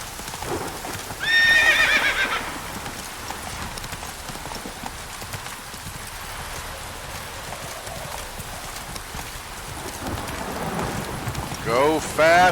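Roach, a horse in the video game The Witcher 3: The Wild Hunt, gallops with steady clip-clopping hooves, whinnying near the start and again at the end over a soft rain-and-wind backdrop.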